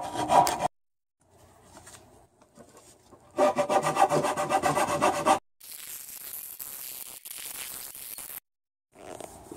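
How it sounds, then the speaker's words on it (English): A hand file rasps back and forth across the wooden edge of a rudder being shaped, loud and close in long scraping bursts separated by brief pauses. "we're going to switch back to the file here"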